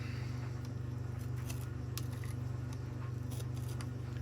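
Scissors snip and scrape at hair packed into a Henry Numatic Airo vacuum brush head. The short, sharp cuts come in irregular bursts over a steady background hum.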